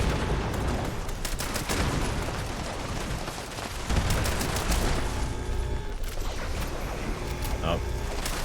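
Rapid bursts of gunfire in the video game Fallout 76, sharp repeated shots in quick volleys with mechanical clicks in between, loud and close.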